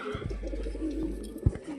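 A female pink-barred pet pigeon gives soft, rolling coos up close, with a sharp brief knock near the end and a low steady hum underneath.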